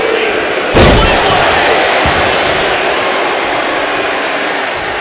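Wrestling arena crowd at a WWE SmackDown show keeps up a steady, loud roar of cheering after a sharp slam or thud near the start, the broad noise holding at an even level throughout.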